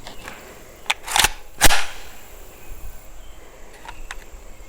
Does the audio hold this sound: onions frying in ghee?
no